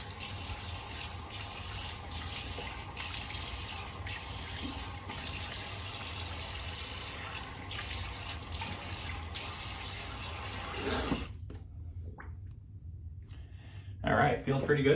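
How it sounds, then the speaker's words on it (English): Tap water running steadily into a sink while a face is rinsed after a shave with a Weck Sextoblade razor, a continuous hiss that cuts off near the end before brief splashing. "Go ahead and get this rinsed off real quick and see how I did"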